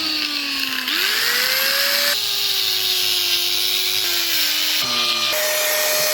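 An angle grinder whines steadily at high pitch, its tone dipping and rising as it bites into work during home repair, loud and close with no talk.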